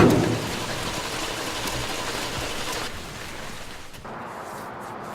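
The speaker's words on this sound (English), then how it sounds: "Instead, we got crazy hurricane rain." Heavy hurricane rain pours down in a steady, dense roar, loud and close throughout, easing only slightly partway through with no voices over it.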